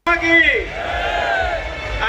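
A late-night street crowd in Vadodara, waving tricolour flags to celebrate India's T20 World Cup win over Pakistan, lets out a loud, close, sustained roar of cheering voices lasting a couple of seconds.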